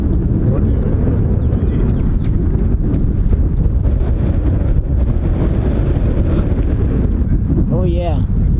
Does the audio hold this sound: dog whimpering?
no